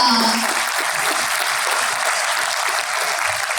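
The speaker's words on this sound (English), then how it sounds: "I think that deserves a big round of applause" An audience at a literature festival session applauds, a dense, steady wash of clapping heard close and loud throughout, with a brief voice at the very start.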